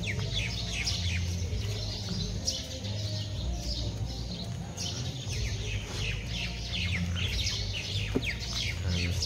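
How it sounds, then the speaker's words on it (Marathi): Sparrows chirping in the early morning, many small birds tweeting continuously in a lively chorus at moderate distance with no talk. "मस्त एकदम सकाळी सकाळी एकदम चिमण्यांचा चांगला आवाज येतो."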